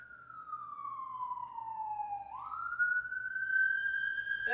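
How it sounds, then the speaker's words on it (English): An ambulance siren passes at a distance, a single wailing tone sliding down then sweeping back up, moderately loud over a low background rumble. "Got a ambulance going by or something."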